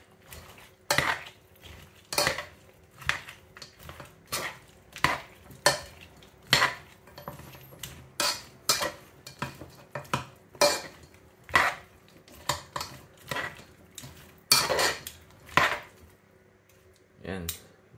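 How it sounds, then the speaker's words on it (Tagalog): A metal utensil stirs food with sauce in a pot, giving a steady series of sharp clinks and scrapes against the sides, close by, about one stroke every second, with quiet gaps between. "Then, haluin na lang po natin."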